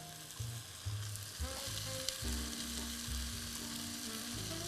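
Cauliflower and hard bananas fry in a pot for a mixed vegetable curry, a continuous close sizzle with crackling spatter and occasional stirring clatter, no voices.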